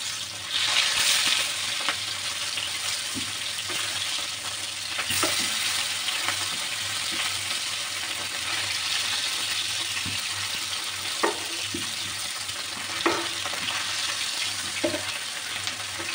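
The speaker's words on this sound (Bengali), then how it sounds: "তো মাছগুলো কিন্তু আমার ভাজা শেষ, এবার তুলে নেব।" Sea fish (bhogni) frying in a pan: a steady, close sizzle of hot oil runs throughout, broken by occasional small clicks and scrapes from a utensil.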